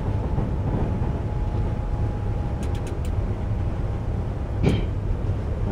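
Steady low rumble of a Virgin class 390 train cruising between Rugby and Stafford in Train Simulator 2020, with a faint whining tone, a few soft clicks and a short hiss near the end, no voices.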